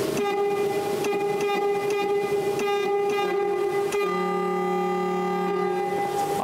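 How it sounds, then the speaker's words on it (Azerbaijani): Horn of a restored ZIM car, a muffled, choked honk held steadily in two long blasts, loud and close with no talk. "Amma burada siqnalda bir dənə nüans var ki, tam ürəklə səs eləmir, boğulur sanki."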